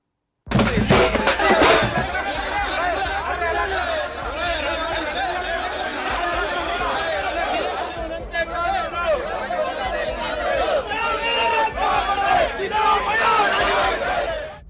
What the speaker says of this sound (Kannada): ಮುಖ್ಯಮಂತ್ರಿಗಳ ಪರ ಜೈಕಾರ ಮತ್ತೊಂದು ಕಡೆ ಸಿಎಂ ವಿರುದ್ಧ ಧಿಕ್ಕಾರದ ಕೂಗು